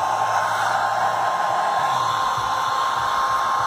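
A Britania Titanium Blue hair dryer runs continuously close by, a steady whooshing blow of air with a constant motor whine, unchanging and without talk.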